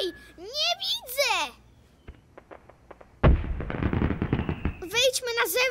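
A rapid crackling burst of fireworks rocket pops and bangs in the middle, with children's voices talking excitedly in Polish before and after, in an animated cartoon.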